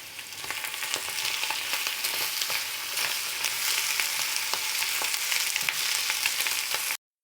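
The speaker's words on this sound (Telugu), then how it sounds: "ఇప్పుడు వీటిని మనం ఆయిల్ బాగా వేడైన తర్వాత 1 by 1 ఆయిల్లోకి ట్రాన్స్ఫర్ చేసుకుని" Pappu chekkalu, flat lentil rice crackers, frying in hot oil, a steady bright sizzle with crackling pops throughout for about seven seconds, close up and uninterrupted.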